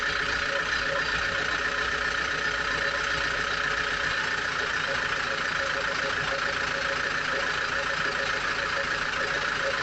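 A 1965 Hillyard 36 Bermudan sloop's inboard engine idles steadily while warming up and charging batteries, a constant close drone with a faint rhythmic knock that runs unchanged throughout with no talking.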